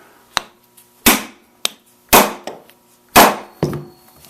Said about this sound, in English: this is pretty thick, so it's going to take a little hammer here